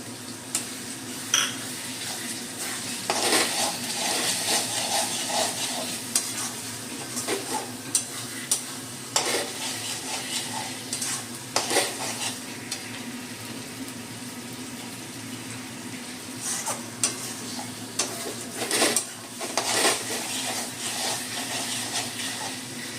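Chopped tomato going into a pan of frying egg curry, sizzling steadily with repeated scraping and stirring clatter from a spatula, close and moderately loud throughout.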